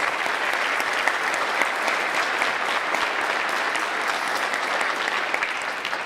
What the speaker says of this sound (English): So a big round of applause to all of those ladies.